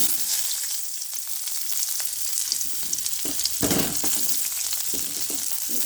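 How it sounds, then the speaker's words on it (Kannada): Onions fry in oil in a pan, hissing and sizzling steadily, with occasional scraping and stirring sounds mixed in. "ಈ ಥರ ಬಾಣಲೆ ಇಟ್ಟಿದ್ದೀನಿ ಈರುಳ್ಳಿ ಹಾಕಿ"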